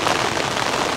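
Steady rain at a campsite in Norway, a dense and fairly loud wash of patter on surfaces that holds even for the whole second, with no voices over it.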